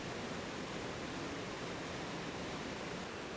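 A raging waterfall in Australia's rainforest tablelands at the tail end of the wet season roars as a steady, dense wash of broadband noise, constant and unbroken throughout.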